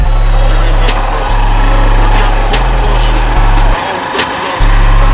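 A Hero Splendor motorcycle engine hums loudly and steadily while riding, its drone shifting pitch in steps as the throttle changes, with a brief dip near the end.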